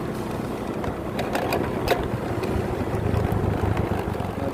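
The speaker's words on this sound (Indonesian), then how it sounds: "Ini saya berada di atas motor, kecepatan 30 sampai 40 km per jam." A motorcycle ridden at 30 to 40 km/h gives a steady, loud engine drone mixed with rushing wind rumble, with a few brief ticks and clicks along the way and no talking.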